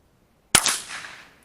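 A single rifle shot fired outdoors near a pond, loud and close, with a sharp crack that rings out into a fading echo over about a second.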